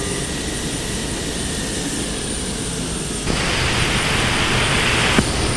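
Boeing 727 jet taxiing to the ramp in a flight simulator game, a loud continuous turbine rumble and whine that swells into a brighter, stronger roar partway through, with a brief click near the end.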